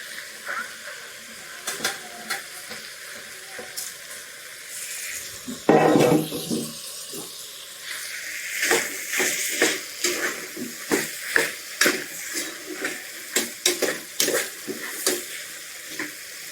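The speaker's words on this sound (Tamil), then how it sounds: "அடுத்து கட் பண்ணி வச்ச கேரட்டு பீன்ஸு உருளைக்கிழங்க சேர்த்துக்கிறோங்க" Cut carrots, beans and potatoes are dropped into a hot pan for vegetable pulao. A sharp hissing burst rises as they go in, followed by intermittent spoon scrapes, clinks and a soft sizzle heard up close.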